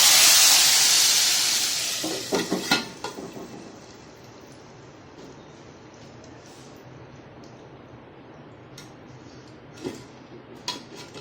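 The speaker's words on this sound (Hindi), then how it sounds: "अब मैंने इसमें डालना है बघार, इसमें डालने हैं मुझे दाल में।" Hot baghar tempering is poured into a pan of panchmel dal, giving a loud rush of sizzle and hiss that quickly fades to a low simmer, with a few faint clinks of utensils afterward.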